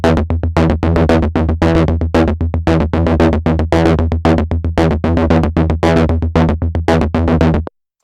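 A distorted, fuzzy synth or guitar line run through a Candy Fuzz distortion stomp box effect in Logic Pro plays a steady stream of rapid, gritty notes at full level, then stops abruptly.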